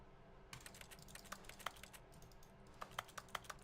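Keyboard typing in the video game The Stanley Parable, quiet clicky keystrokes in irregular bursts over a soft low hum, faint and close.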